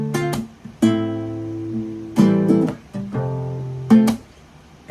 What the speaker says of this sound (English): All together, that's going to sound like this with the bar chords.